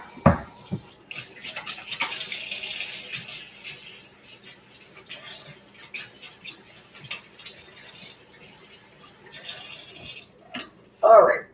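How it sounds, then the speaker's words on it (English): A kitchen faucet runs as hands are rinsed after kneading French bread dough, a soft steady hiss of water over several seconds ending in a brief clatter, with no speech heard. "Give me 1 sec, and I'll rinse my hands off."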